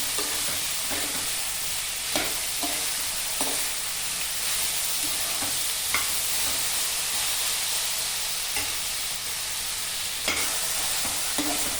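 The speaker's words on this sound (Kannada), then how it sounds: "ಎರಡು ನಿಮಿಷ ಬಾಡಿಸ್ಕೊಳ್ಳಿ ಸೋರೆಕಾಯಿನ ಎಣ್ಣೆಯಲ್ಲಿ ಎರಡು ನಿಮಿಷ ಬಾಡಿಸ್ಕೊಂಡ್ರೆ ಸಾಕು" Chopped bottle gourd sautés in oil in a pan, a steady close sizzle and hiss punctuated every second or two by brief spatula scrapes and stirs.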